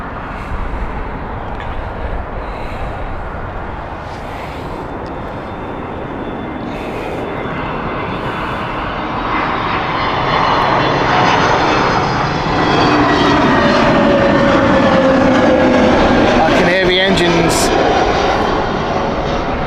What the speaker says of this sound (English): Rolling. Oh, hello. Airbus A321. Unusual. From KLM.